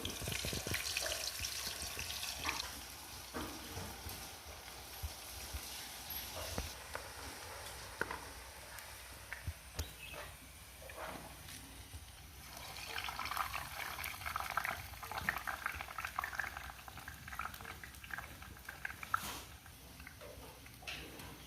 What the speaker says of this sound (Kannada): ಸಿಪ್ಪೆ ತೆಗೆದಿಟ್ಕೊಂಡ್ರೆ ಇದಕ್ಕೆ ಸೀದಾ ಎಣ್ಣೆಗೆ ಬಿಡುವ